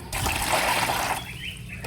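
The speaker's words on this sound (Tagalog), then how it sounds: "Lagyan na natin ng tubig yung ating guppy breeding tank" Water pours steadily into a guppy breeding tank, a continuous close splashing rush that thins toward a lighter trickle near the end.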